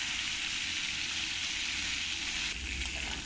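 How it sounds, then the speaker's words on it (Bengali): Potatoes and pointed gourd fry together in hot oil in a home kitchen pan, giving a steady, close sizzle with a faint scrape of stirring near the end. No one speaks. "আলু পটলগুলো ভালো করে নাড়িয়ে চাড়িয়ে একটু লাল লাল করে ভেজে নেব"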